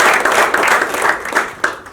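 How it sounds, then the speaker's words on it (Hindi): Enthusiastic audience applause welcoming a team onstage at a Jeevdaya Parishad event in Mumbai, dense steady clapping filling the room for the full stretch without a break. "मैं चाहूँगा जोरदार तालियों से स्वागत किया जाए।"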